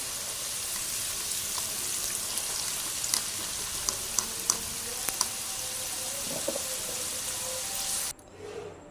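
Potato chips frying in hot oil for crisp homemade chips, a steady close sizzle with occasional sharp pops and crackles that cuts off abruptly near the end, with no voices.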